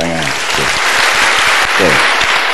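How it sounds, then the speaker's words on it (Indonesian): A crowd at a university gathering claps loudly and continuously, with a voice briefly speaking over the applause. "Oke, tepuk tangan, tepuk tangan."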